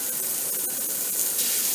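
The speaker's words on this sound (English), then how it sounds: "listen for that sizzle." Cornstarch-dusted meat pieces dropped into a hot pan for beef stew, giving a steady, close hissing sizzle that holds evenly throughout with no talking.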